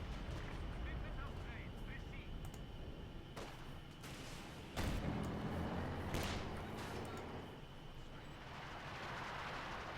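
A British infantry section returns fire in the World War II strategy game Company of Heroes 2, with scattered sharp gunshot cracks and heavier bursts over a rumbling battlefield while a voice talks throughout.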